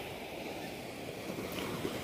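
Large ocean waves roll and wash steadily onto a shore, a continuous loud surf roar with wind buffeting the microphone throughout.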